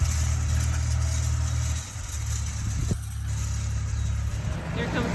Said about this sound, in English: He's got the other tractor and the other bar rake.